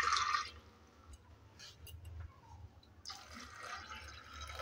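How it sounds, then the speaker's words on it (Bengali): Water pours into a cooking pot holding jackfruit pieces and red lentils, a brief splashing burst at the start and again near the end, with quiet pot sounds between. "এবার দিয়ে দিচ্ছি জল।"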